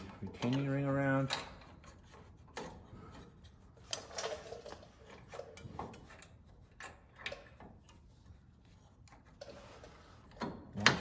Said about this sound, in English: Then start pulling the retaining ring around.